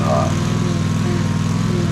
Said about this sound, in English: record me mowing the next door neighbor's lawn over here.